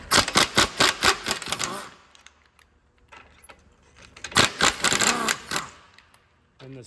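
Ratcheting a wrench to loosen 17 mm ball joint nuts on a 2014-2017 Toyota Highlander V6 AWD front suspension, giving two loud runs of rapid metallic clicks separated by a quieter pause.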